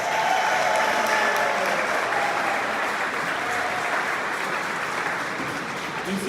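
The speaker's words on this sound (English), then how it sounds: "Can we give them another applause," Sustained applause from an audience at a mayoral inauguration ceremony in Greenwich, London, a steady dense clatter of clapping holding at an even level for several seconds.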